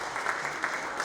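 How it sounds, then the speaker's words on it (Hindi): Crowd applause welcoming BJP National President JP Nadda at a party foundation day event, a steady wash of clapping, moderately loud and unbroken. "तालियों के गड़गड़ाहट के द्वारा माननीय राष्ट्रीय अध्यक्ष जेपी नड्डा जी का हम स्वागत करते हैं"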